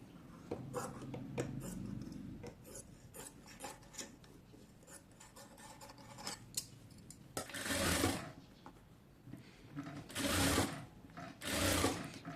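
A sewing machine stitches the neckline of a kameez in short, uneven bursts, with cloth rustling and a few louder scraping passes toward the end.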